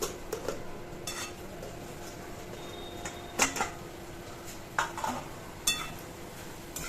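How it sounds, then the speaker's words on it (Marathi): A pan of bottle gourd (dudhi) vegetable curry is stirred from the bottom with a spoon, giving scattered light clinks and scrapes of metal on the pan over a quiet kitchen background. "मिक्स करून घेऊया हलवून आपण तळापासून"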